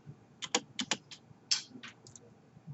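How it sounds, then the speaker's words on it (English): Series of sharp computer keyboard key presses, including the space bar, in irregular clusters of clicks, close and fairly quiet, while drafting in AutoCAD. "I'm using my space bar as my enter key"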